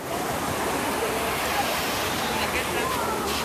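Surf washing onto a beach at the Copacabana Hotel in Acapulco, Mexico, a steady broad rush of breaking waves with faint crowd murmur in the background.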